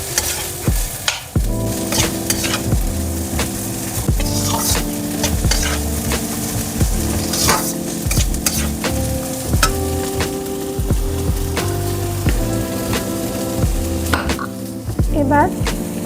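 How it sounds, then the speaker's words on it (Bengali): Capsicum and onion frying in a pan while a utensil stirs them, with steady sizzling under repeated scraping and clinking strokes close by, and no talking. "ক্যাপসিকামটা দিয়ে এবার নাড়িয়ে নিলাম।"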